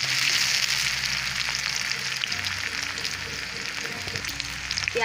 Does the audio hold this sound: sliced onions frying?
yes